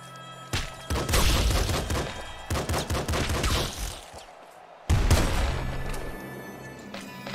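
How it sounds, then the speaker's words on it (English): Cannon fire in the video game Nuclear Throne, rapid loud bursts of explosive shots in close clusters, a brief lull, then another heavy volley with lingering game noise. "I'm trying to dodge the freaking field rod cannons"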